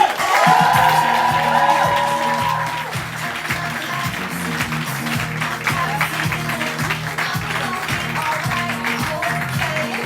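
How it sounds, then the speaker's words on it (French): Loud applause and cheering from a comedy club audience at Le Comédie Café as a comedian is welcomed onstage, with dense clapping, whoops and stamping that surge at first and then hold steady. "je vous demande de faire un tonnerre d'applaudissements pour Sin, s'il vous plaît."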